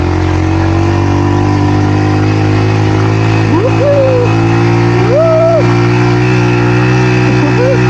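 A small 1972 Honda motorcycle ridden in second gear, its engine droning loud and close throughout with steady harmonic tone and wind buffeting, pitch rising and falling with several throttle swells.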